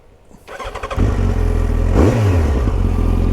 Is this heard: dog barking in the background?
no